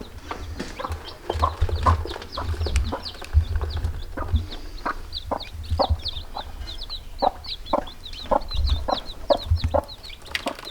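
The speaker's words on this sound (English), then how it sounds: "we had a chicken go broody and sneak into the shed and had a bunch of chicks" A broody hen and her chicks in a shed, with the hen's low repeated clucks and the chicks' fast high peeping running throughout, close by and with no talking.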